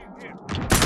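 Rapid gunfire in the Call of Duty Warzone video game comes as a dense, loud burst of shots building toward the end, mixed with game sounds and voice chat.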